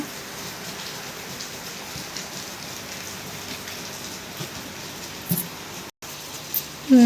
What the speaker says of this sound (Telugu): ఇదిగోండి, ఫుల్గా పడుతుంది వర్షం